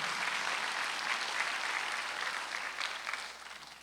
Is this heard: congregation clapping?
yes